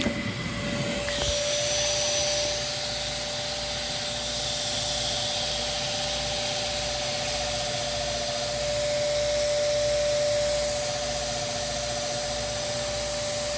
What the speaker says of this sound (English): And then we'll hear the turbine rev back up.